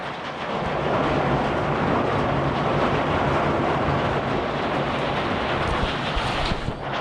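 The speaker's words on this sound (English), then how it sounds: "Check out the rain." Heavy rain pours down in a dense, loud, continuous roar with steady rushing hiss, close to the microphone and without pause.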